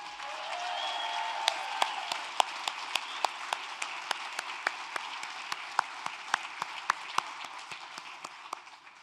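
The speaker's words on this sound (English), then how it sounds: "we need to applaud them even louder than what you folks just gave" Sustained applause from a large convention audience at a Native Hawaiian gathering in Las Vegas, a dense steady wash of clapping with sharper individual claps standing out, slowly tapering toward the end.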